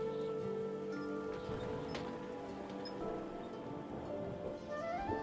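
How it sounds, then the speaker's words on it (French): Steady rain falls in the video game The Spirit and the Mouse, a continuous soft patter of drops on surfaces with light rustling, heard alone under gentle ambient game music. "Il pleut"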